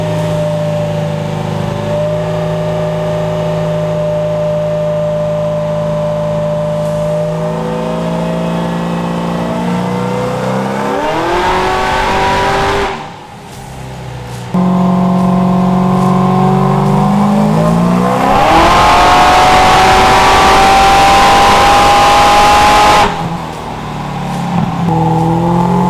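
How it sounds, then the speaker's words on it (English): A drag-racing streetcar engine, built up from a roller car, revs hard on a dyno. Its loud, close roar climbs and holds in long sweeps, cuts off abruptly mid-run, then surges higher again, with no talking over it. "We're getting the car set up on the dyno."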